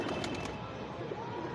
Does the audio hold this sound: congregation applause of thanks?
no